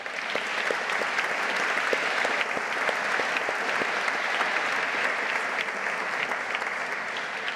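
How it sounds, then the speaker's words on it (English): Steady applause from an audience at an awards ceremony, many hands clapping continuously at moderate volume for several seconds without a break. "Could we give them a round of applause?"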